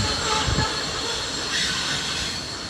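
A train rolls steadily past on the tracks near a ghost town, with a continuous loud rumble, wheel clatter and a faint metallic squeal throughout.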